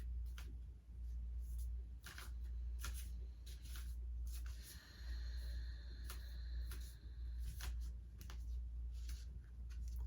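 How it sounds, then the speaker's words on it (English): An oracle card deck shuffled by hand, giving repeated soft riffling and ticking bursts over a steady low hum, close and fairly quiet with no talking. "You can just begin to shuffle the deck"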